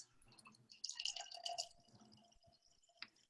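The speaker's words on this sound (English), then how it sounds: "I'm just pouring it through this little gourd strainer into a glass" Lapsang Souchong tea is poured through a small gourd strainer into a glass, giving quiet close trickling and dripping that swells briefly mid-pour, then thins to a few faint drips.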